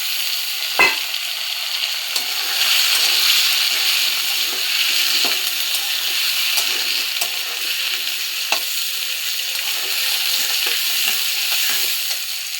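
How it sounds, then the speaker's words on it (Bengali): Potatoes and onions fry together in a pan with a continuous bright sizzle, punctuated by occasional scraping taps of stirring, with no talk over it. "আলুগুলো দিয়ে পেঁয়াজ দিয়ে একসঙ্গে ভাজা করে দেবো"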